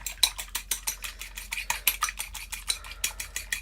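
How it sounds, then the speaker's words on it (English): Fork whisking egg in a bowl while cooking chicken katsu curry, a quick steady run of light metallic clinks and scrapes against the bowl, close and alone. "Just give it a bit of a whisk."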